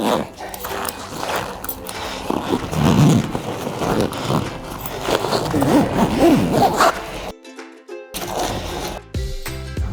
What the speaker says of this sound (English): now just zip it up